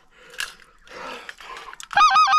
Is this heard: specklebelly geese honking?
yes